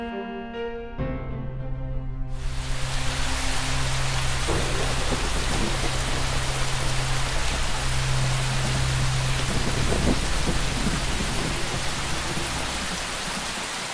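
Heavy rain pours steadily with deep rolling thunder rumbling beneath it, a dense, loud storm that starts abruptly and continues without voices.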